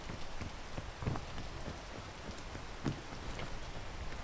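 Steady rain in the Hello Kitty Cafe Tycoon video game: a continuous dense patter with a few louder drops, heard alone at moderate level.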